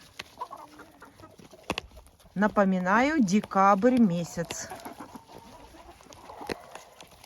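Hens on a farm in December cluck softly and intermittently nearby, with someone talking over them partway through.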